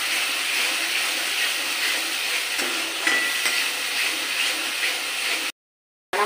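Water rinsed from a spice bowl goes into a hot pan for chana paneer, giving a steady loud sizzle and bubbling hiss that runs on evenly before cutting off abruptly.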